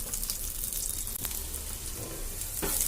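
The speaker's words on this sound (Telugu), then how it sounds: "వీటిని బాగా ఫ్రై చేసుకుందాం" Onions and dried red chillies fry in a pan, a steady close sizzle with occasional light stirring scrapes throughout.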